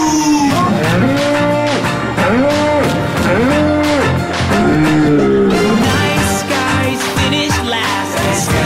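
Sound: cow mooing

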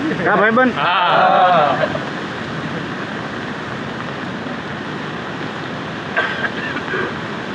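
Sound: rushing flooded river water

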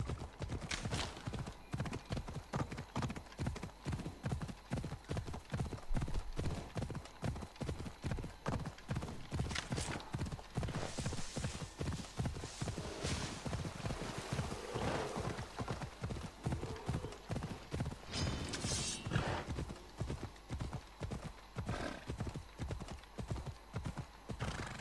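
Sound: horse hooves clip-clop in the video game Assassin's Creed Odyssey

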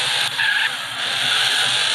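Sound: car driving and skidding in video game GTA San Andreas

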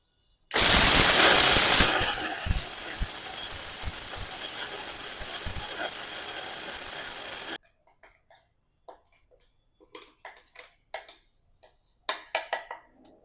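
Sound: electric grinder grinding laddu mixture

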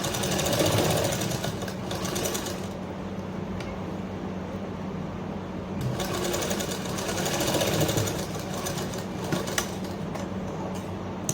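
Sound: sewing machine stitching a seam on a kurta collar

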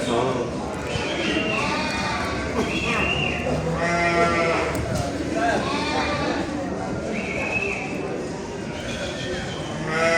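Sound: sheep and lambs bleating at livestock market

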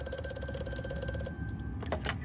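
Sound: telephone ringing in video game Amnesia: A Machine for Pigs

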